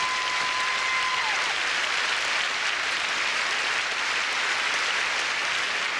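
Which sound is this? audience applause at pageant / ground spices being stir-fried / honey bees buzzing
audience applause at pageant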